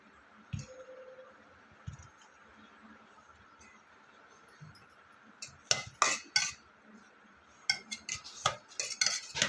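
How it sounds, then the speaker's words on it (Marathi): Boiled potatoes are mashed with a masher in a metal pot, with intermittent clanks and scraping knocks of the tool against the pot, growing busier and louder toward the end after quieter stretches. "स्मॅशरने आपण स्मॅश करून घ्यायचं आहे इथे आता आपलं बटाटे स्मॅश करून झालेले आहेत"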